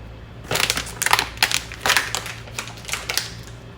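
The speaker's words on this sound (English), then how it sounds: "and then I'm gonna open this bag up" A plastic bag of tortilla chips being opened in a home kitchen, heard as a series of sharp crinkling and crackling bursts, close and fairly loud, with no talking.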